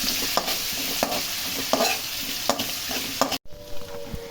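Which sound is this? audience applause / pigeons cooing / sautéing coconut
sautéing coconut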